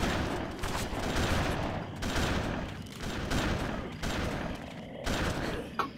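Dense, sustained gunfire in BloodRayne: ReVamped, fast overlapping shots in bursts broken by brief gaps, fairly quiet and mixed with busy game noise.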